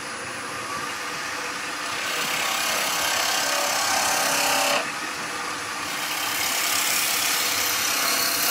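A wood lathe spinning at about 2000 revs while a skew chisel tidies up a piece of solid timber: a steady whirring hiss that grows louder as the cut bites, dips briefly midway, then rises again, with no talking.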